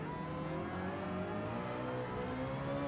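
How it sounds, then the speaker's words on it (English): A rotary race car engine in the racing game Gran Turismo 7 winds up with a rising, whirring whine, shifting pitch as it revs, fairly faint and steady. "we hear the rotary engine of Cookabun's car there winding it up"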